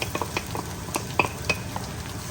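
Onions added to hot oil and frying, a quiet, even sizzle punctuated by the light clinks and taps of a utensil stirring in the pan.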